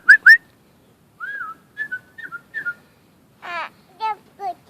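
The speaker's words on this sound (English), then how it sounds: "Are you whistling?" A person whistles short, wavering notes in an indoor setting that is otherwise quiet. The notes come in scattered bursts, some rising and some sliding, near and clear.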